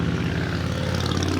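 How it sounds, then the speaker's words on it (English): A loud motorcycle engine droning steadily nearby, its throaty low rumble sustained with no gaps and no voices over it. "loud motorcycle"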